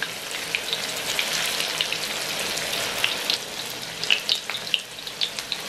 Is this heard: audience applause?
no